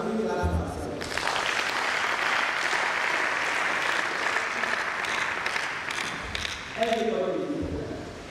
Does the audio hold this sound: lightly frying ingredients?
no